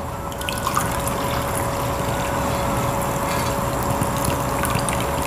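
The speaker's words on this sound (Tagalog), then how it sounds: "Tapos, maglagay tayo ng ating hot water." Hot water poured into chocolate cake batter in a mixing bowl, a steady continuous trickling stream running close and unbroken from start to finish, with no talking.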